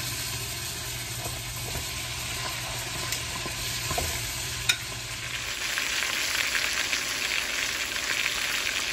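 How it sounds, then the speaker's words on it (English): Sausages frying in a pan, a steady close sizzle and crackle running throughout, with a brief clink partway and no talk. "I'm going to add my sausages back. And I'm going to cook them for 4 minutes on each side."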